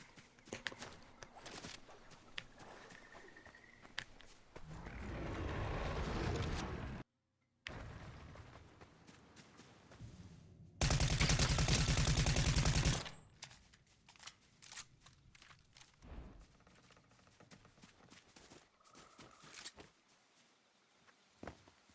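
Keys clack on an Epomaker x Aula F108 mechanical keyboard, a dense stream of quick clicks and taps with bursts of louder broadband noise and a brief drop to silence midway.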